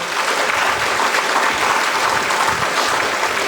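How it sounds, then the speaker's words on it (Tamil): An audience at a college freshers induction program claps hands in a dense, steady burst of applause that fills the room throughout, with no voices over it. "அது உண்மை என்றால் நீங்கள் இன்னொரு தடவை கைத்தட்டிடுங்க"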